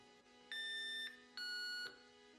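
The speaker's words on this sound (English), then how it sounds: "you can set up the siren to chime when your door is opened" Two short electronic chime tones from a GetSafe security system door-open alert sound in succession, each a clear sustained beep about half a second long, against a quiet hum.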